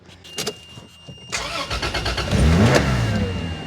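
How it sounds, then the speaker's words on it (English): A Toyota Land Cruiser engine cranks with a few rhythmic starter pulses, then catches and settles into a loud, steady idle close to the microphone. "With the battery in, we're gonna turn it on. Hopefully it starts."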